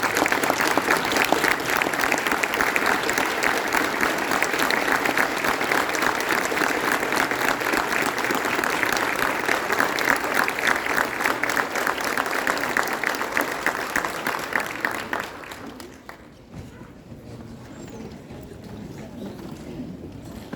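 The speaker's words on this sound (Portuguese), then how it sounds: "de pé, a gente dá uma salva de palmas" A standing ovation in the Câmara Legislativa honouring Joaquim Roriz, long, dense, loud applause from a large crowd holding steady for about fifteen seconds before fading abruptly into quiet room noise.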